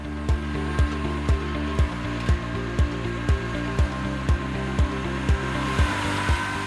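An Amazone EDX 9-metre precision seed drill works a field sowing rapeseed, giving a steady mechanical drone with a regular rhythmic clunk repeating about twice a second.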